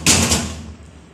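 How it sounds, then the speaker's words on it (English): A door closes with a single loud, close thud and slam that rings briefly and then fades, with no voices. "close that door"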